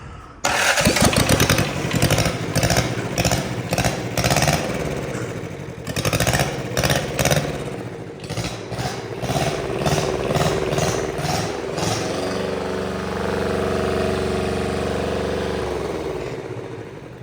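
A mini dozer's diesel motor cranks, catches and runs with a loud, rough, pulsing clatter, then drops to a steadier, lower hum.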